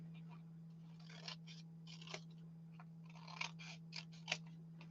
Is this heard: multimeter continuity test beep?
no